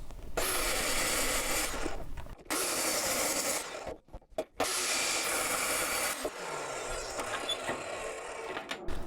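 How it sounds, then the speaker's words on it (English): A metal lathe turns down a round bar for trailer post pins, giving a steady close hiss of cutting broken by short pauses and a brief clunking interruption before the cut resumes. "I'll start by turning down a piece of round bar to the diameter that will fit snugly into the post tubing"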